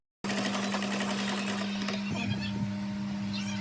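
Sewing machine stitching tacks on a floral dress, a steady close mechanical whir with a constant hum, running continuously after a brief silent start.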